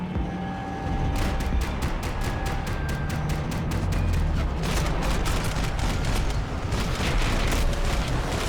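Gunfire from a firefight in Max Payne 3 rattles in rapid automatic bursts and crackling volleys, loud and close, repeating almost continuously with short gaps between strings of shots.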